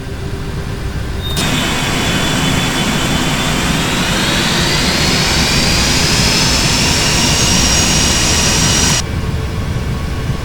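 An aircraft's jet engines spool up before takeoff on an Antarctic runway, a loud steady roar with a rising whine that climbs in pitch and holds for several seconds before cutting off abruptly.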